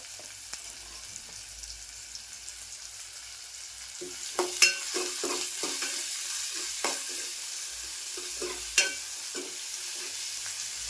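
Onion with asafoetida and ginger-garlic paste sautéed in a pan for a taro-leaf dish: quiet at first, then a soft sizzle with a run of scraping stirs at close range and no talking.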